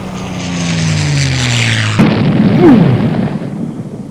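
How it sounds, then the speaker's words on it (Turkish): In a GTA 5 video game, a droning propeller aircraft engine descends in pitch and then cuts into a loud, sustained crash rumble with bursts of noise, like a plane going down. "Uçak düştü herhalde."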